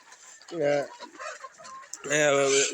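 Two loud clucking calls from nearby four-month-old desi chickens, one short and one longer, separated by quieter rustling and faint background noise.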